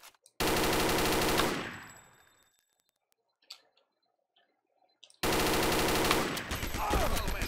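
Bursts of CAR rifle fire in a video game: a loud rapid automatic volley that trails off, a short quiet gap with faint clicks, then a second sustained burst, no talk.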